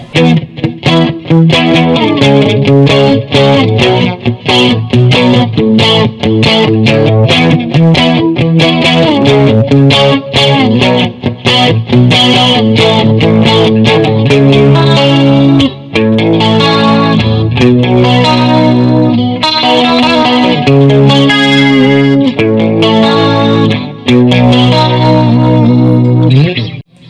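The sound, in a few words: electric guitar with chorus effect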